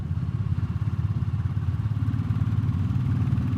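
Royal Enfield Classic 350, a 20-horsepower single-cylinder motorcycle, thumps steadily while being ridden, its loud, close engine pulsing in a rapid even rhythm with no talk over it.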